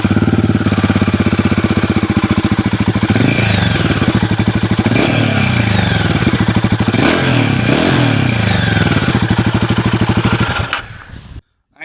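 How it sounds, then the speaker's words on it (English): A Royal Enfield Himalayan 450 motorcycle idles loud and close with a steady exhaust thump, blipped into several quick revs that rise and fall before the engine cuts off near the end. "we're going to check the exhaust note on the motorcycle"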